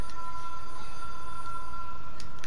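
A telephone rings in the video game Control as a steady electronic warble, holding on continuously through the short span over faint background hum, with no one speaking.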